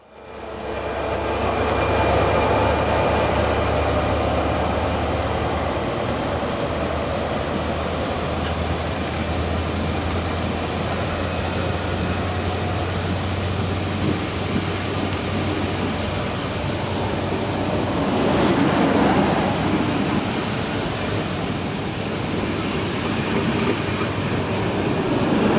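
A Nord-Ostseebahn Class 223 diesel locomotive, number 010, hired from MRCE, hauls a train north toward Westerland, producing a steady, loud, continuous rumble of engine and rolling wheels throughout, with a brief swell near the end.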